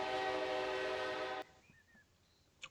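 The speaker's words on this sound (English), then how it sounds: "That is a K3L I actually imported from a website that sells train horns." A K3L train horn from a train simulator game blasts loud and sustained for about a second and a half, then cuts off abruptly, leaving quiet background with faint chirp-like tones.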